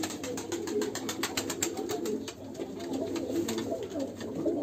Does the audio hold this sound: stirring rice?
no